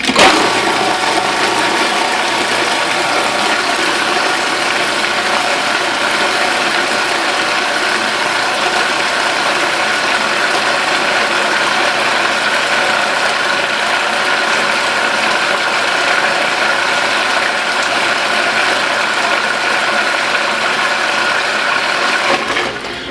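A blender runs continuously while mixing banana bread batter, giving a loud steady motor whir with a rattling mechanical texture that holds without a break.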